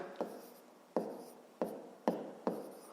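Numbers are written by hand on paper for a fifth-grade math exercise: five short, distinct pen or pencil strokes, soft and close, separated by brief silent gaps.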